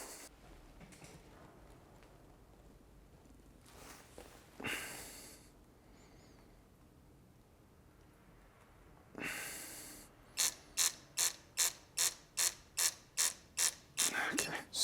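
A digital torque wrench turns bolts through an angle on a 187k-mile Ferrari V8 from a Maserati Quattroporte GTS. A few soft rustles and handling bursts come first, then about ten sharp, evenly spaced ratchet clicks ring out up close.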